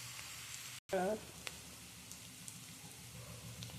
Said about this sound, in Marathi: कांदा लसूण मसाला परतून घेऊया